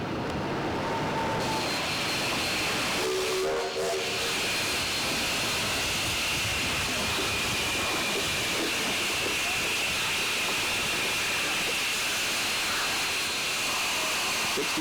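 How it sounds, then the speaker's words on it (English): CNR 6060 steam locomotive backing up in a rail yard, giving a continuous loud hiss of steam with a rumbling undertone and a short tonal squeal early on. "6060 has now arrived in Sarcee Yards and is backing up towards the shop"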